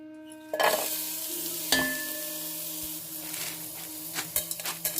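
Black pepper and cumin seeds fry in hot ghee for a pongal tempering, a close crackling sizzle that bursts in loudly, with sharp spoon clinks against the pan and a few louder pops near the end, no talk.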